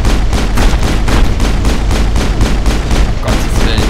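Rapid, loud gunfire in the Mass Effect video game: a fast, regular string of close shots, roughly eight per second, runs almost unbroken.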